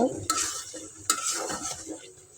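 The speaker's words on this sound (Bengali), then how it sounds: "এই তো আমি এখন একটু নাড়াচাড়া দিয়ে দিব" A utensil stirring lati (taro stolon) shrimp curry in a pan, close scraping strokes with two sharp metallic knocks against the pan and a soft sizzle underneath, no talking.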